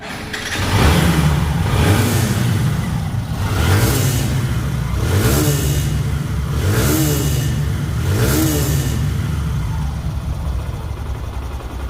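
A second-hand Hero Xtreme motorcycle engine in showroom condition revs repeatedly, five or six sharp throttle blips rising over a steady close idle, loud and unaccompanied by talk.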